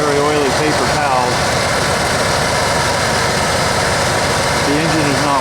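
Ford F150 inline-six engine idles while still cold after a repair, a steady rough rumble with constant hiss, with a voice talking over it at the start and end.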